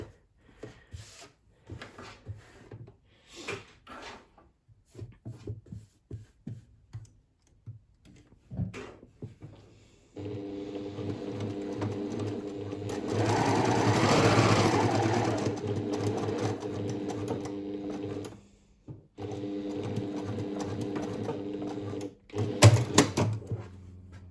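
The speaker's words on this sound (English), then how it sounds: "And I'm going to sew back up this side with 1 centimeter seam allowance and back stitch" A sewing machine stitches a fabric seam with a back stitch, starting with scattered handling clicks and taps, then running in steady motorised bursts with a brief pause and a faster burst at the end.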